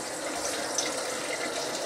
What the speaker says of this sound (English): Now I'm going to put about 2 quarts of water in the bottom of that pan.